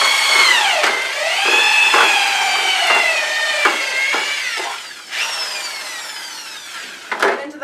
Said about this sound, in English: just get it back in there and tighten the drill. Mixing all the way down at the bottom.